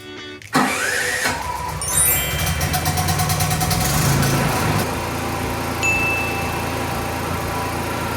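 A PK8000i dual fuel generator starts with a short crank, catches, and settles into a steady, loud, close mechanical drone that runs unbroken to the end.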